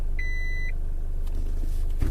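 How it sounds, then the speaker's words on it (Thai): Reverse gear warning in a manual six-speed car gives a single short electronic beep early on, over a steady low engine idle rumble. "เกียร์ถอย มันจะมีเสียงนะครับ"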